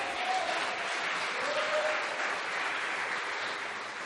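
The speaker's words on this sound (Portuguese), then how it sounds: "Vamos aplaudir o seu nome." A congregation at a Sunday church service applauds in a steady, continuous wash of clapping at moderate volume, sustained throughout with no speech over it.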